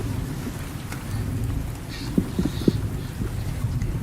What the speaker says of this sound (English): Listen, storm.